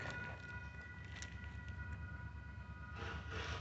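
A Union Pacific local train led by locomotives rolls into a siding, a faint continuous low rumble with steady mechanical droning and a brief brighter burst near the end.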